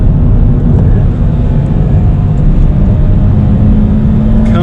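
A 2020 Toyota GT86 Hakone Edition with a manual gearbox drives at full throttle. Its engine holds a loud, close, steady drone with a constant low rumble and no one speaking.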